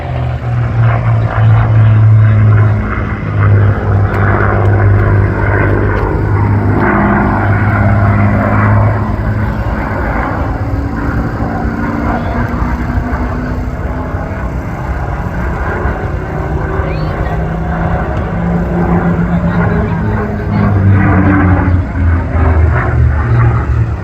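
A propeller aircraft engine roars steadily through an aerobatic display at the Sun n Fun Aerospace Expo in Lakeland, loud and sustained with shifting pitch as the plane maneuvers, a thin whistling tone woven through the engine note.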